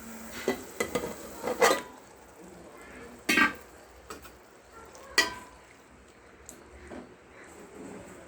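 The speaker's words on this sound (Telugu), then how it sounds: "మసాలా మగ్గిన తర్వాత మటన్ అయితే వేస్తున్నానండి దీంట్లో" Mutton pieces dropped into cooked masala in a pan for a curry, heard as a few sharp clanks of spoon and pan with brief sizzling bursts, separated by quieter gaps and faint background noise.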